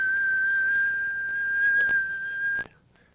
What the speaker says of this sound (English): I want a monotone whistle through the whole swing.